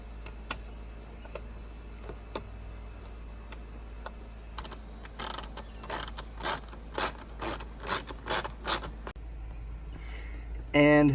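Ratchet clicking in quick bursts while tightening the under-dash screws of a Saab NG 900 / OG 9-3, a run of sharp close ratcheting strokes in the second half after scattered faint clicks.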